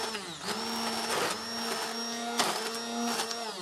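An electric mixer blending chocolate cake batter, a steady motor whine that dips briefly in pitch as the beaters load, close and continuous with no talk.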